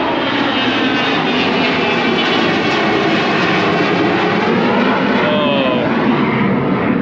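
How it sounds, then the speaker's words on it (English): A nearby fixed-wing aircraft, a carbon fibre printed plane, drones steadily overhead, its engine a loud continuous roar with a slowly shifting pitch throughout, with no voices over it. "It's like a carbon fibered printed plane."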